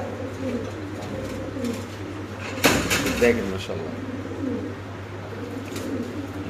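Two pairs of pigeons for sale at a market coo softly and repeatedly under nearby talking, with a brief clatter partway through.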